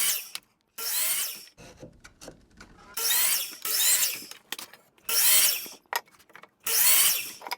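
A miter saw cuts wood pieces for a wooden star, with five loud, separate bursts of blade whine spaced a second or so apart, each followed by the motor spinning down. Nobody speaks.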